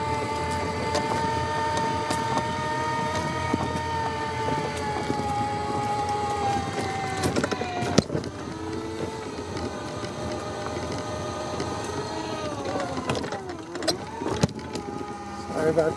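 A Ryobi riding mower converted to run on a single LiFePO battery rolls down a driveway slope, its steady electric whine holding layered tones that waver and dip, close by with no engine roar.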